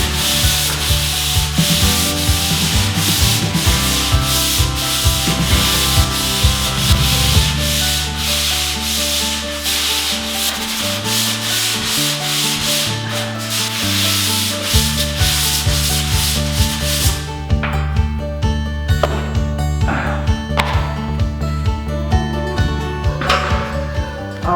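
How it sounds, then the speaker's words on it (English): Continuous loud rasping of sanding across mudded drywall near a bullnose corner bead, steady rubbing strokes throughout, alone and close by with no talking. "Sanding is all done."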